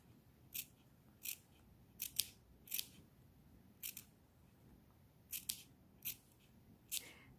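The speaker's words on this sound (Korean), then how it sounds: "가위집을 내주세요." Scissors snip notches into a fabric seam allowance in about ten short, crisp cuts spaced irregularly, close and clear over a quiet room.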